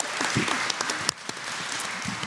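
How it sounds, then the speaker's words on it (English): Steady applause from a live conference audience, a dense wash of clapping lasting a couple of seconds with a few sharper claps standing out. "let's give some applause to them for everything that they've done"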